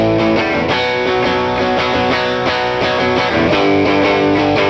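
Electric guitar through a distortion pedal with the drive turned to minimum, giving a mildly crunchy, loud, sustained chordal strumming in a steady rhythm, played alone without any voices.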